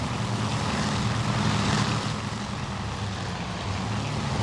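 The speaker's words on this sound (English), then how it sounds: "some of the Japanese aircraft have not given up" Japanese WW2 propeller aircraft in the strategy game Task Force Admiral drone steadily with a loud, continuous engine roar that swells slightly midway, with no voices.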